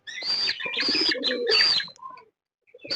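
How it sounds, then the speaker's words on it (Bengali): Fantail pigeon chick being fed by its parent pigeons, giving squeaky begging calls and wing-fluttering in loud, close bursts that stop briefly before starting again. "খুব কিউট একটা পায়রা"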